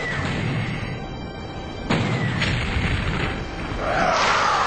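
Rocket explosion in the strategy game Terror From The Deep, a sudden booming blast followed by a rumbling crash, then a second swelling burst of noise near the end.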